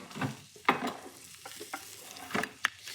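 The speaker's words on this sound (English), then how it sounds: "the secret here is to get some colour on those eggplant. You know, it's a robust vegetable, so it can take a really good sear." Salted eggplant searing in a hot pan, a close, busy sizzle broken by scraping stirs and a few sharp clinks as pieces are moved around.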